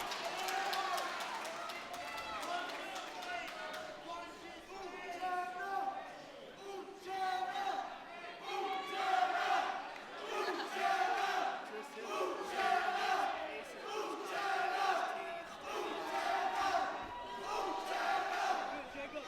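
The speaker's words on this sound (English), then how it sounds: "So you hear that crowd bellowing of Uchenna." A large crowd at an MMA fight chants and roars in rhythmic, repeated swells, loud and continuous, bellowing a fighter's Nigerian name in unison.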